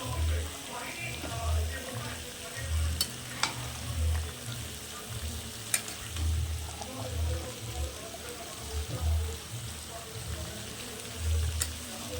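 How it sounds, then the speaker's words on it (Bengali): Chicken pieces being stir-fried in a kadai for a meat curry, a low simmering sizzle with soft rhythmic low thuds of stirring and occasional sharp clicks, faint and close. "সম্পূর্ণ মাংসটা আমি কড়াইয়ে দিয়ে দিয়েছি এবার ভালো করে কষাতে থাকবো"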